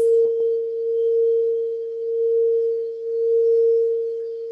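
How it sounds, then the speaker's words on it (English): A sound ball used in meditation emits a single steady pure tone that hums on evenly with a slow gentle wavering in loudness, after a brief tap at the start. "Vibrating to the sound of the sound ball and the frequencies that it emits."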